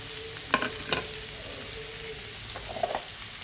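Onion and tomato sizzle in a pan for paneer butter masala, a steady soft frying hiss with a few sharp clinks and stirring scrapes, close and fairly quiet.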